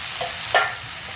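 Garlic and raw peanuts are dry-roasted in a pan. A short burst of sizzling hiss comes with one quick stirring scrape.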